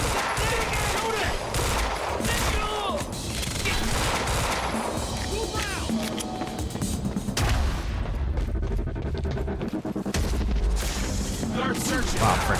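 A firefight rages in the video game Quantum Break, with dense bursts of automatic gunfire and sharp shots running continuously at close range, mixed with occasional booms and shouted voices.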